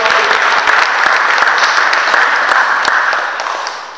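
A congregation at a church consecration service bursts into sustained applause, dense clapping filling the room steadily before easing slightly toward the end.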